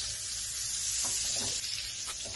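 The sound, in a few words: fish frying in a pan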